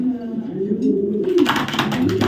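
Afsan grizzle pigeon chicks cooing up close, a low soft warbling coo running throughout, joined by a person talking over it in the second half.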